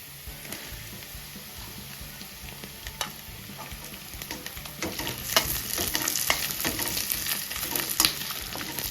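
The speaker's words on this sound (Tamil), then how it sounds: "இப்போ நம்ம இந்த வெட்டி வச்ச வெங்காயத்தை போட்டுக்கலாம்" Chopped onions hit a hot pan and fry with a soft, steady sizzle that gradually grows louder, with scattered crackles and a few sharp clicks of stirring.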